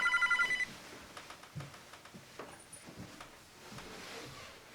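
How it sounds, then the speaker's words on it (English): A telephone gives a short, rapid burst of ringing at the start, then gives way to quiet rustling and faint handling sounds. "I gotta get the phone."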